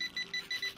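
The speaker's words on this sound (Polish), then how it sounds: "O Jezu, przepraszam, zeskanowałem pani to. I ten dźwięk." A checkout scanner in the Job Simulator video game gives a quick series of five faint, high, evenly spaced electronic beeps.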